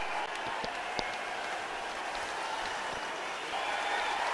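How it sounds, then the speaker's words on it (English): A steady wash of crowd applause and scattered cheering at a wrestling show, sounding distant and continuous throughout, with a slight swell near the end. "please give a big round of applause"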